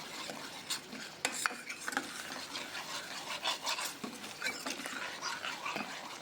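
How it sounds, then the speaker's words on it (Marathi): Yogurt stirred into cauliflower masala in a pan, a soft continuous scraping and mixing with scattered clicks of a spoon against the pan, quiet and close with no talk. "दही त्यामध्ये चांगले घोटून फिरवा"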